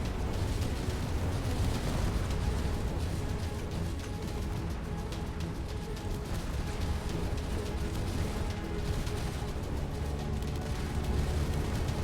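Turrets firing and explosions rumbling in the Space Engineers video game, a continuous dense barrage of booms and crackling impacts, loud and unbroken throughout with no talk.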